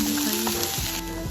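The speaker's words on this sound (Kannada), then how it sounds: "ಎಲ್ಲ ಮಿಕ್ಸ್ ಆಗೋವರೆಗೂ ಚೆನ್ನಾಗಿ ಫ್ರೈ ಮಾಡ್ಕೊಳ್ಳಿ" Green chicken masala frying in a pan, a steady close sizzle with a few soft stirring scrapes in a brief burst.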